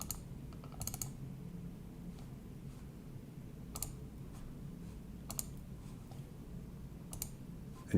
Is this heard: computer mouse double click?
yes